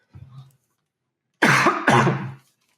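A man coughs twice in close succession, a loud, harsh double burst following a faint short throat sound.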